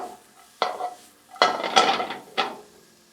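Stir fry with broccoli being tossed in a pan on the stove, four quick clattering scrapes and knocks of pan and food with brief sizzling between, close and moderately loud.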